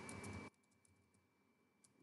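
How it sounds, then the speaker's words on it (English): Faint typing on a computer keyboard: a quick flurry of key clicks at the start, then a few scattered soft taps in near silence. "I am going to type"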